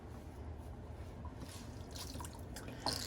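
Water draining from a bathroom sink after a shave, a faint trickle and drip that gurgles briefly at the end, heard close with no voices.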